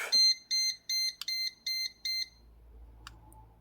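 A laser level's tilt warning beeper, triggered by tilting beyond 3 degrees, sounds six short, evenly spaced high-pitched beeps, then falls silent apart from faint background noise.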